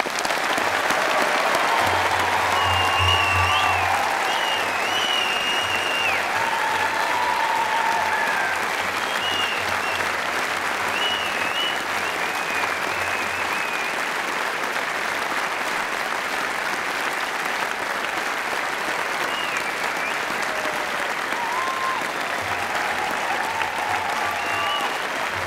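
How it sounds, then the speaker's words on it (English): A large crowd at a 2009 university graduation ceremony gives the new graduates a long, sustained round of applause, dense and steady throughout with a faint low hum beneath. "I think we should all join in a tremendous round of applause for all our new graduates"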